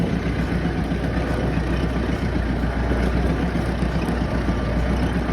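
A tractor engine runs steadily at close range while moving an empty vehicle, a constant low rumble with no breaks and no speech over it.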